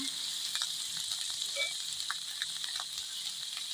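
Adobong pechay ingredients sautéing in a hot pan, a steady close sizzle and crackle with small pops and stirring scrapes throughout, no talking.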